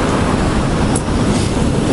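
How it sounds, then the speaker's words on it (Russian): Black Sea waves at Sochi roll onto the shore in a steady broadband wash with constant wind noise over the microphone, loud and close throughout, with no speech. "смотрите, какая волна."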